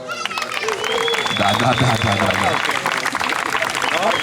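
Applause from the crowd at the Mogoșa Downhill Challenge 2016 mountain-bike award ceremony, steady clapping under a loud announcer's voice and music throughout.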